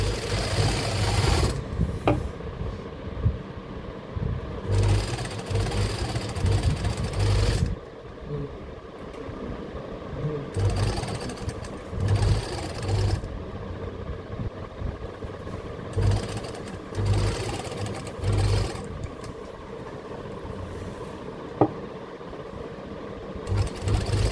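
Sewing machine stitching the hem of a kurta, a close, steady mechanical whirring in repeated bursts separated by short pauses.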